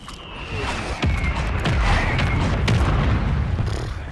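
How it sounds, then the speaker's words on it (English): An airstrike detonates on Rebirth Island in Call of Duty Warzone: a loud, deep boom rolls into a long, heavy rumble with scattered cracks and debris-like clatter over several seconds. "Hostile airstrike near your location."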